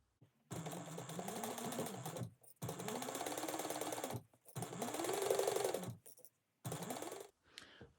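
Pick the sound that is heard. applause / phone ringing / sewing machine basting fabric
sewing machine basting fabric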